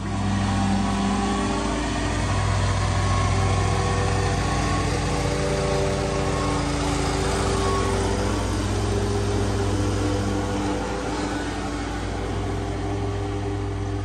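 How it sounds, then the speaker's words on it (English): A big lawn mower engine runs steadily and close by, a loud continuous drone with a strong low hum and buzzy harmonics that shift slightly in pitch as it works, with no talk. "So you can mow little areas with this big mower too."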